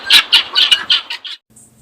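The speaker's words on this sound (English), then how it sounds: "If you've never heard guineas squawking" A rapid series of harsh, raspy guinea fowl squawks on a farm, about seven in a row, loud and close, then a brief quiet with faint background hum.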